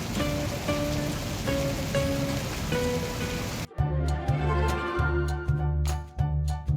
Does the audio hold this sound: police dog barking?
no